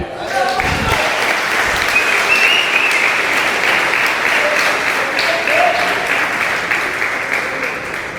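Loud, sustained applause from a church congregation during a worship service, with brief voices and sung tones rising over the steady clapping.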